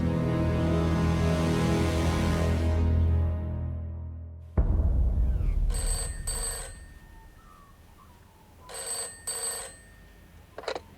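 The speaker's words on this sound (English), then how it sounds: "I was the one that took the phone call on the Tuesday morning from John Fitz." Telephone ringing: two short double-ring bursts sound at moderate loudness after a fading musical chord, with quiet pauses around them and no speech.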